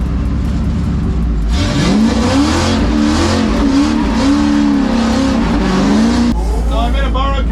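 A 4.6-litre Ford Mustang, nearly stock with an angle kit and hydraulic brake, revs hard on a race track, its engine pitch climbing and holding high in a loud, continuous close roar, with tire squeal and a voice talking over it.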